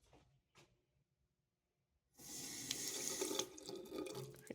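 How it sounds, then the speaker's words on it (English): Water runs steadily from a faucet at a hospital surgery ward sink, starting abruptly after a couple of faint knocks and near silence, then a continuous close hiss and splash. "See how the faucets work."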